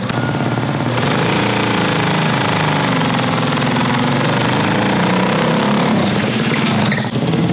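Modified 212cc small engine running hard during a timed run, a loud, continuous, close mechanical roar with a rapid knocking rhythm, holding steady throughout with a slight shift near the end.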